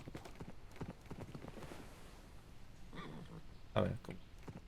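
Horse hooves clopping in Minecraft, a run of soft repeated steps fairly close, with a sharper thud near the end and faint game ambience underneath.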